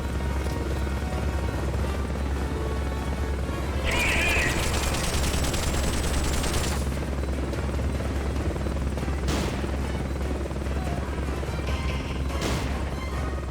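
Helicopter rotor drone from Metal Gear Solid: Peace Walker runs steadily throughout, joined by a burst of gunfire and shotgun blasts midway and a couple of sharp shots later, all with no talking.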